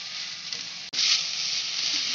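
Vegetables for egg hakka noodles fry in a hot pan with a steady, bright sizzle, near and continuous, broken by one brief dip as something is stirred or added.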